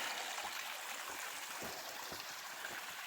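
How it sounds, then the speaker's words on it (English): A small mountain stream trickles along a hiking trail about a mile in from Walnut Mountain Road, a steady, soft rushing wash with faint gurgles, fairly quiet and uninterrupted throughout. "Here's our first nice little water source."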